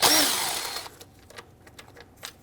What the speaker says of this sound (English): now let's remove the bolts completely.